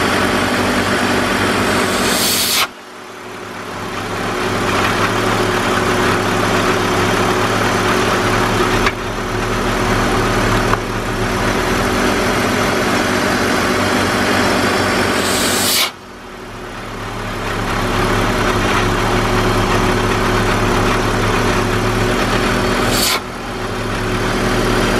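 A BMW E46 engine idles at close range with a steady low rumble and faint mechanical hum, broken by a few short sharp dips and brief bursts as the sound changes, with no talking.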